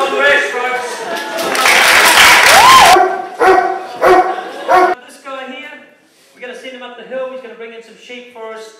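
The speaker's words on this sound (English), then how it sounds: "the dog is worked with a voice or whistle" A dog barks in short bursts at a show, directed by voice or whistle, amid a loud, cheering crowd, with a voice calling out and applause rising and falling around it.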